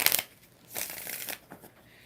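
Tarot cards being shuffled by hand in a quiet room, a short riffle at the start and then two longer papery bursts of flicking and sliding cards, close and soft, with no talk.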